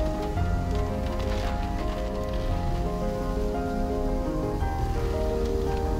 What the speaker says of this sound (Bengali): পাহাড়ে বৃষ্টির শব্দ একটু অন্যরকম।